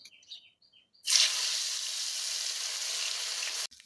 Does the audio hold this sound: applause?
no